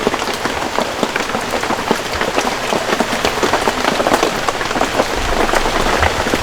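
Steady rain pours down in a forest during the rainy season, a dense, even patter of drops hitting leaves and surfaces with no pauses and no voices.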